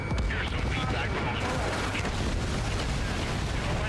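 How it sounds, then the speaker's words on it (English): Dense, continuous rumbling blasts and crackling debris from an explosion in the Ace Combat 7 air combat game fill the whole stretch, loud and unbroken, with a voice talking faintly underneath. "Big explosion, huge success."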